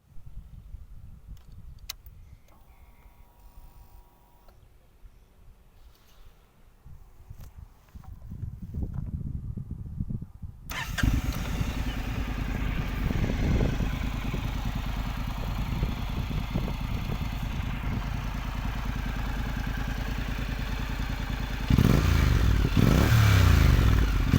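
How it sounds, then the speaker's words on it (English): A Honda NC750X motorcycle engine with a Beowulf aftermarket exhaust idles with a deep, throaty rumble, then grows louder and rougher, revving near the listener toward the end. "let's get a sound check of the bike with its Beowulf aftermarket exhaust pipe."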